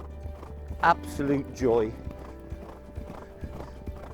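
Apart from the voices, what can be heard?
racehorse galloping, hooves on ground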